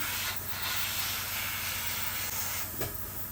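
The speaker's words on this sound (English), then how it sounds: "when I'm airbrushing and I'm not actually applying paint, I'm still pressing down on the trigger. I'm sure you can hear it" Airbrush spraying paint to weather a Bachmann POA scrap wagon model gives a continuous steady hiss with no talking. A brief thump comes near the end.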